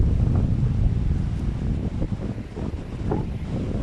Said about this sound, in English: hear that wind over there. That is strong.